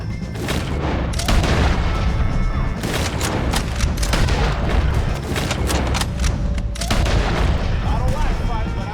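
Rapid gunfire in Red Dead Redemption 2 as O'Driscoll gang members are shot, loud dense volleys of cracks and booms repeating throughout, with shouted voices in the mix.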